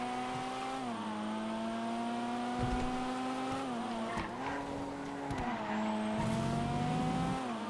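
Race cars in GTA FiveM speed along a track, engines droning loudly with steady pitch shifts as gears change, tires squealing and skidding through corners during an overtake, with no talking.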